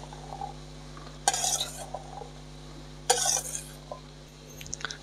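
A spoon stirs and mixes cauliflower and peas with homemade masala in a pan, giving two distinct bursts of scraping and clinking against a steady low hum, with a few faint softer knocks between.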